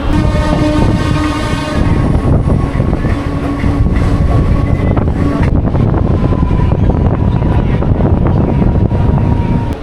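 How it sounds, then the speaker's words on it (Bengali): A local train pulls away from Deshpran halt station toward Digha, with a steady loud rumble of wheels and carriages, a sustained horn-like tone early on, and wind buffeting the microphone throughout. "ট্রেনটা ছেড়ে দেবে, চলুন ট্রেনে উঠে পড়ি"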